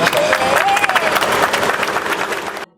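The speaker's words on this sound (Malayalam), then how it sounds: "അദ്ദേഹത്തെ നിറഞ്ഞ കയ്യടികളോടെ" Dense, loud applause from a crowd greets a returning traveller at a homecoming reception in Kalpakanchery, continuous clapping with some cheering that cuts off abruptly at the end.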